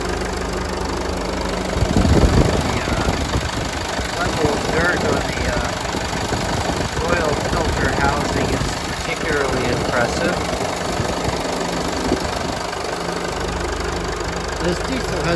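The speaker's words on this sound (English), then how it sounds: "This diesel has a very unique sound hard to describe." A 2014 Mercedes-Benz GLK250 Bluetec diesel engine idles steadily with a low, knocking rumble, close by and fairly loud, while a person talks over it.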